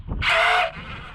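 An impact wrench on a 2005 Renault Espace gives one short, loud, high buzzing burst while removing a brake caliper pin, then quiet shop noise.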